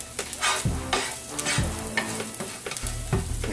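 Garlic sizzling in hot oil in a pan while steak picado is being prepared, a steady close frying hiss broken by several scraping stirs and clanks, with no talking.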